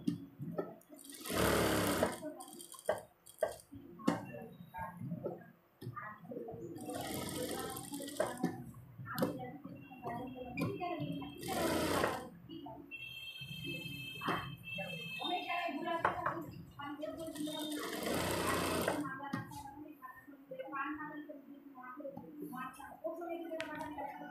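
A sewing machine stitches a neck design on a garment in short bursts of rapid mechanical whirring separated by pauses, with someone talking quietly between runs.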